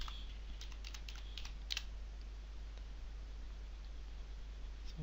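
Password typed on a computer keyboard, a quick cluster of light key clicks early on, then sparse, faint taps over a low steady hum.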